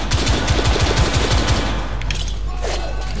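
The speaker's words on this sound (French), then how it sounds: "je lui tire en plein dans la tronche" Rapid automatic gunfire in The Order: a fast burst of close, loud shots for about a second and a half, then scattered fainter reports and echoes.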